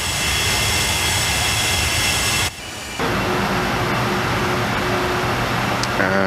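Jet engines of an IAI Westwind 1124 in a flight simulator roar steadily during the climb after takeoff, a dense continuous whine and rumble that drops out briefly before resuming.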